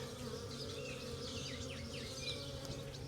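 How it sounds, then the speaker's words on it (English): A small swarm of honeybees hums steadily at close range in a dense, continuous drone with shifting whines of individual bees passing near, and no voices. "this is a pretty small little hive or group of bees"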